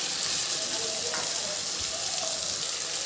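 Capsicum added to a hot pan with tomato sizzles as a steady, even hiss of frying that runs the whole way through, close and continuous.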